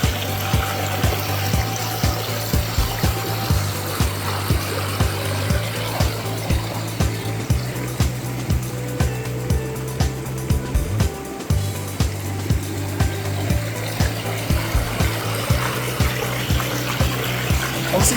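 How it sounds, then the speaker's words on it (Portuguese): A small mountain stream runs beside the listener, where a self-cleaning water intake filter box is installed: a steady, close, full rush of flowing water with a rhythmic low mechanical pulsing beneath it, with no speech. "do som da água que está aqui do meu lado"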